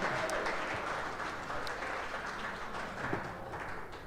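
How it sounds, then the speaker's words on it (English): Steady applause from a live event crowd celebrating Packers players Josiah Deguara and Kenyan Drake after a Christmas trivia round, an even, fairly distant wash of clapping with no break. "How about a big round of applause for the guys tonight?"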